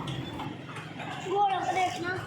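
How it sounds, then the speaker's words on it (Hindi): Horses walk at night during Eid ul-Azha, and one is a sacrificial animal. Soft, irregular hoof clops sound faintly under people talking nearby. "वैसे ही आधी रात को घोड़े क्या कर रहे हैं यहाँ पे"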